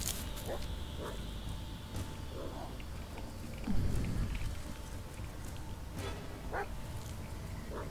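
Dog barking and yipping in the Blair Witch horror video game, several short barks scattered over a dim rainy, rustling forest ambience, fairly distant and moderate in level.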